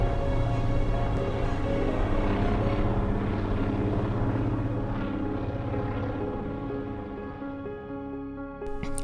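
A float plane flies overhead near Kashwakamak Lake, its propeller engine droning steadily and loudly with a rich harmonic hum that slowly fades as it moves away.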